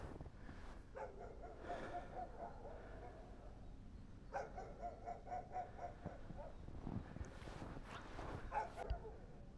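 Faint dogs bark in the distance on a snowy winter road in Beloretsk, Bashkortostan, several short bursts of barking rising over a quiet outdoor background.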